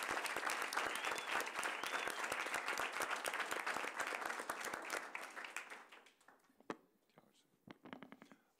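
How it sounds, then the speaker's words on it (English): An audience applauds tenured teachers at a school board meeting, a dense, steady patter of many hands clapping that thins out and fades to a few scattered claps and murmurs near the end. "keep clapping for all 19 wonderfully tenured teachers this evening"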